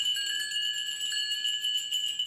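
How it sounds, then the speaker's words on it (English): Small bells on a front door jingle and ring continuously, a bright shimmering tinkle with sustained high tones, fairly quiet and heard on their own. "Bells on the front door don't just sound nice, they help to move the energy into the room."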